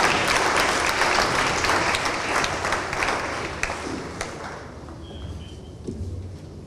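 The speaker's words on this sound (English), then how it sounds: "Please, a round of applause for him." Applause fills a hall at a formal government gathering for the Central Regional Minister, dense, steady clapping from a large audience that gradually thins and fades toward the end.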